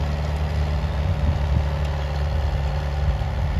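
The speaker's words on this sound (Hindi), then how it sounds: "ये दोस्तों हमारा बहुत पुराना ट्रैक्टर है, इस वजह से आवाज़ कर रहा है इतनी" A very old tractor engine running on a farm field during wheat sowing, a loud, steady low-pitched idle rumble with constant mechanical drone and no change in pace.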